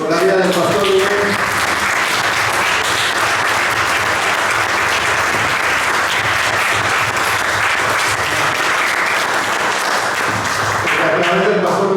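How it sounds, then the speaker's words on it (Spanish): A church congregation applauds in sustained, dense clapping that fills the room steadily for about twelve seconds, with faint voices and cheers mixed into the broad wash of hands. "Y le damos un aplauso a Dios por la vida del pastor Rubén."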